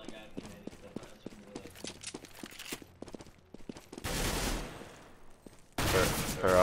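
Counter-Strike: Global Offensive gunfire crackles in two loud, dense bursts near the end, following a stretch of quieter in-game footsteps and clatter, with voices chatting over the match.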